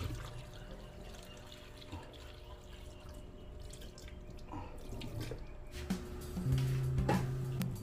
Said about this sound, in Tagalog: Lagyan natin ng tubig para hindi siya mangitim.